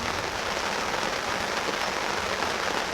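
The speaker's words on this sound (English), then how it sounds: "here comes the rain, it's coming on thick" Heavy rain pours steadily at a campsite, a dense, loud and unbroken hiss of drops hitting surfaces with no pauses and no voices.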